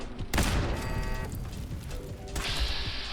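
A machine gun turret in the Fallout 4 video game firing a rapid, dense burst of shots, joined by mechanical whirring and clanking, moderately loud throughout.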